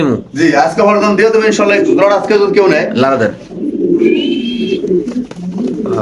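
A Dauka pigeon at a pigeon farm gives repeated deep, throaty coos, loud and close, with a voice speaking in between.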